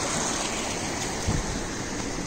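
Water rushing steadily through a channel built to irrigate fields near a hidden waterfall at Rispan, Dehradun, a dense continuous splashing flow, close and loud with no pauses.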